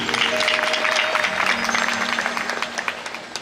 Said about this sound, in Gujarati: બતાવો એકવાર જોરદાર તાળીથી.